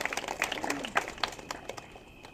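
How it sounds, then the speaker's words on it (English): Applause for a participant named Reva at Gurudev's satsang in Los Angeles, a light, scattered clapping from an audience, fairly quiet and uneven, with a voice briefly audible underneath. "Just give a big clapping to Reva."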